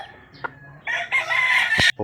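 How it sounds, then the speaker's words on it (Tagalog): A rooster crows once nearby, a loud rising call preceded by a short cluck and a brief outdoor noise. "ito yung manok natin guys"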